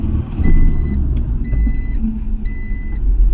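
A car engine drones low and steady while driving in second gear, with a faint repeating electronic beep chiming in short bursts over the rumble.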